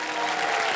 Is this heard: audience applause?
yes